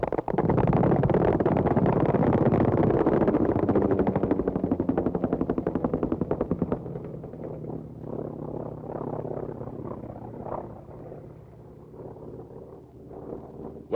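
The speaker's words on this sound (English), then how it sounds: "50-caliber machine guns firing at approximately 750 rounds per minute, as demonstrated by this North American Trojan trainer" Fifty-caliber machine guns on a North American Trojan trainer aircraft firing in a loud, rapid continuous burst at roughly 750 rounds per minute, then cutting off to leave the aircraft engine droning with wind noise.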